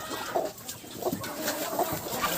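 Moulting hens in a farmyard give soft, repeated clucks and short calls, several birds close by with the pauses between calls filled by steady outdoor background noise.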